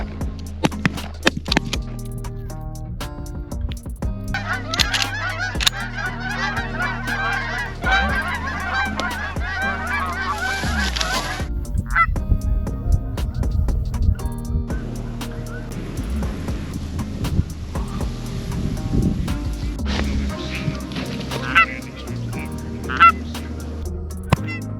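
A low-flying flock of Canada geese honks loudly and repeatedly overhead on an eastern Montana goose hunt, the calls overlapping in a dense, continuous chorus close above the listener.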